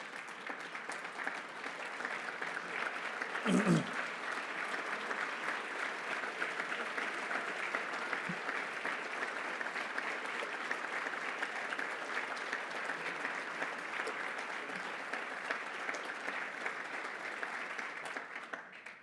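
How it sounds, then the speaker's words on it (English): A roomful of people at a city address gives sustained, even applause as a standing ovation, with a short louder burst early on and a brief thump later, lasting the whole stretch. "So let's hear a big round of applause for Paul."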